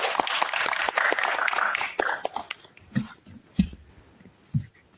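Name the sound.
applause for podcast guests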